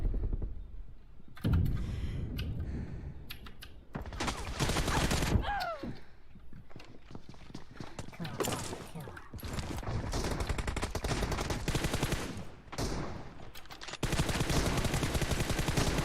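Dense video-game gunfire from PUBG during a team deathmatch, with rapid bursts and sustained automatic fire filling most of the stretch, loud and close, broken by brief lulls and a few sharper single shots.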